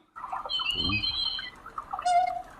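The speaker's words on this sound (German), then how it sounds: "Oh, der Vogel flippt da schon aus." A bird squawks excitedly in shrill, harsh bursts, close and fairly loud over a low background murmur, with one brief scratchy rustle in between and no speech.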